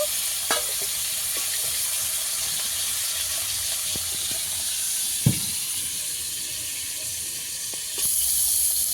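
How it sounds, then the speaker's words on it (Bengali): River prawns frying lightly in hot oil in a pan give a steady soft sizzle that runs throughout, with a few faint clinks and one sharper knock partway through. "বেশি ভাজবো না, একটু হালকা করে ভেজে নেব।"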